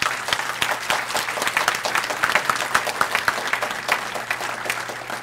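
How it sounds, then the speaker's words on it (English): Applause rises from the audience at a breakfast event honoring the speakers, a steady roomful of clapping with some sharp claps standing out, sustained evenly for several seconds without talk. "I want to especially give another round of applause to our speakers."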